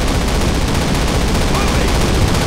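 Dense, loud gunfire from a World War II squad in Call of Duty, with continuous overlapping rifle and machine-gun shots filling the whole stretch without pause.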